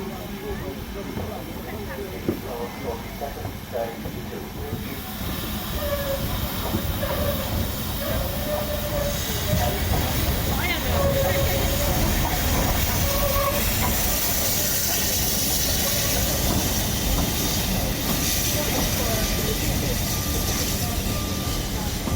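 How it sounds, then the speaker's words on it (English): A steam train headed by locomotive 43106 rolls in with a steady hiss and chuff, wheels rumbling on the rails, the noise swelling as it nears and then holding loud. "we await the arrival of the inbound 1243 service, headed by locomotive number 43106."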